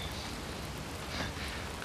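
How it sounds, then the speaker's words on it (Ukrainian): Rain falling steadily as a dense, even hiss of drops, faint and continuous with no voices over it. "Дощ, я закрию."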